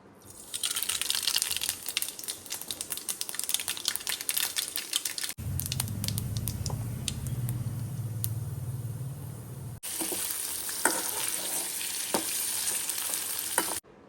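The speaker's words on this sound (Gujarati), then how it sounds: "આપણે તેલ આવી ગયું છે એમાં રાઈ એડ કરી દઈએ" Mustard seeds sizzling in hot oil in a home kitchen, a dense crackling fry with scattered pops, interrupted midway by a stretch of low rumbling background before the sizzle returns, no speech.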